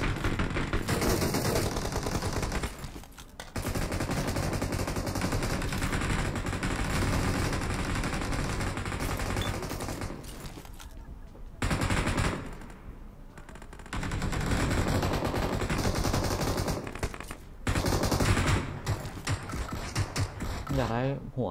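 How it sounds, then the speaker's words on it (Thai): Rapid bursts of gunfire in PUBG Mobile crackle almost continuously, with brief pauses between volleys, loud and close with a mechanical game-like quality. "เสียงปืนดังมาก"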